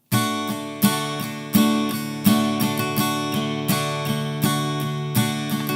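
Guitar strummed in a steady run of single downstrokes that closes with a quick down-up pair, each strum ringing out with a sharp attack and decay, close and alone.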